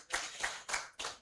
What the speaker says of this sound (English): So please give her another round of applause.